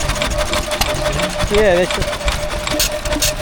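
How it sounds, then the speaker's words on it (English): An old hit-and-miss stationary engine runs at a country show, a steady chuffing beat as the flywheel spins, with a brief rising whine in the middle and a voice speaking over it. "So hit and miss. So flywheel's going along nicely, and then as soon as it starts to slow down, it sparks up."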